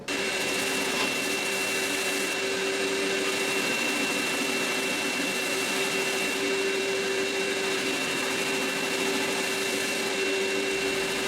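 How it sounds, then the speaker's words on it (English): A homemade drum sander smooths a scrap-wood guitar part, giving a steady, loud whirring drone with a constant hum that runs unbroken throughout, with no talk over it. "So the neat thing about a homemade drum sander is you can push the piece in and pull it out."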